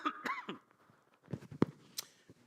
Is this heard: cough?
yes